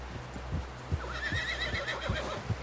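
A horse in the video game Red Dead Redemption 2 whinnies over steady clip-clop hoofbeats, the neigh rising midway in a wavering call while the hooves keep a rhythmic low thud.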